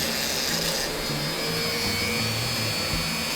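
A Dremel rotary tool grinds through a spoiler bracket for an A90 Toyota Supra, a steady high-pitched whine held at constant loudness with no breaks, fairly quiet and with no talk over it.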